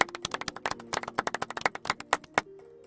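Golf clap sound effect: a soft, sparse patter of light hand claps, irregular and close, fading out after a couple of seconds.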